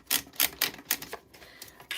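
Keys on a keyboard clatter in quick, close bursts of rapid strokes, separated by short pauses and trailing into lighter, scattered taps.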